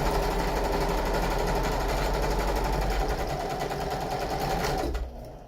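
A sewing machine stitches a flat seam in a fast, continuous mechanical whir. The motor runs steadily up close for about five seconds, then stops abruptly.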